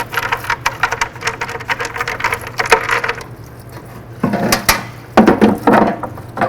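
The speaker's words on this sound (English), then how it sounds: "Make sure you give that valve cover a good scrub" A brush scrubs a 1998–2012 Ford Crown Victoria valve cover in a parts washer, rapid rough strokes with rattling metal and wet patter, loud and close, pausing briefly in the middle before resuming.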